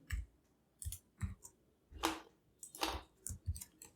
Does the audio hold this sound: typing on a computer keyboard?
yes